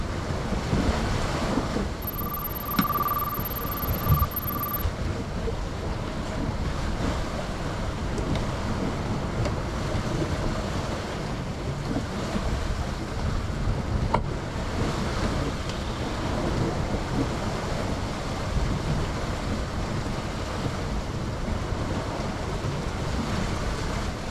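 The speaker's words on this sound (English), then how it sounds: "It's a little windy. I think we'll have some wind noise here." Steady rushing wind buffeting the microphone over water on a sailboat sailing upwind, constant and loud throughout, with a brief electronic beep early on.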